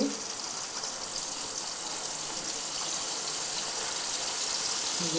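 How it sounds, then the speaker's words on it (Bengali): Pointed gourd (potol) frying in a pan gives a steady, broad sizzling hiss close by, even and continuous with no talking, easily mistaken for running water. "পটল ভাজা হচ্ছে।"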